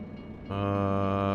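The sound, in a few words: train passing in American Truck Simulator video game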